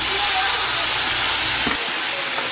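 Frozen ground tomato hits rice frying in a hot pan with a loud, close burst of sizzling hiss that fills the moment and eases off slightly toward the end.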